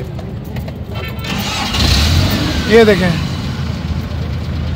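A Suzuki pickup with an engine needing some work is started at an outdoor Sunday car bazaar and settles into a steady idle, with a brief rise at cranking and people talking over it.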